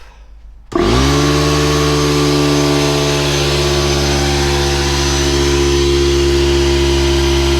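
An air compressor starts with a sudden loud surge, then runs at a steady, close, droning roar with a strong hum throughout.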